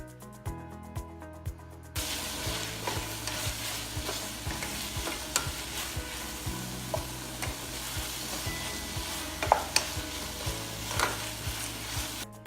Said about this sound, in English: 1 small tomato finely chopped. Add some salt while sauteing.